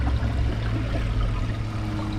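A second flush of an American Standard Champion 4 toilet, a dense close wash of running water that holds steady the whole time with no talk over it.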